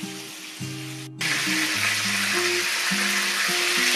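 Fish frying in a hot pan, a steady close sizzle that swells louder after a brief dropout near the start, with low tonal kitchen hum underneath and no voices.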